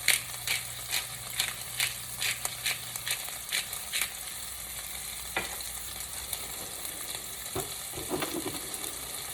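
Onions and green beans sauté in a pan with a bright sizzle, punctuated by a run of rhythmic stirring knocks early on, then fewer scrapes later, up close and moderately quiet, no speech.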